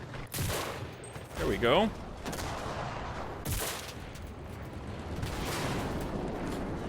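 Gunfire in the World War II shooter Enlisted crackles in bursts of distant and nearby shots over a steady battle rumble, while someone briefly talks.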